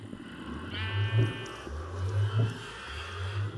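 A few Minecraft sheep bleats sound in short, repeated calls at moderate volume, with a brief tonal effect and a voice behind them.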